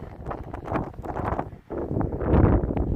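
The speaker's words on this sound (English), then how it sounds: "it's hard to hear with the wind" Gusty winter wind by a frozen-over Lake Michigan in Chicago buffets the microphone in steady rumbling bursts, loud and continuous with a brief lull midway.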